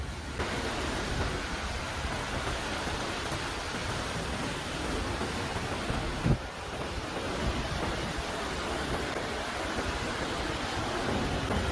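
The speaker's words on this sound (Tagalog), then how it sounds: "grabe, lalakas ng alon" Strong sea waves pound a La Union shoreline in a steady, loud wash of surf with wind noise over the microphone, continuous throughout with one brief bump near the middle.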